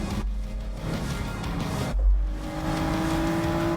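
A Mitsubishi race car's engine drones steadily at high revs on the Tokyo Expressway in Gran Turismo 7, with a brief dip around a gear change before pulling on, loud and continuous.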